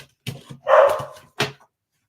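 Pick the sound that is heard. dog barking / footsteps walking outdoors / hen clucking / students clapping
dog barking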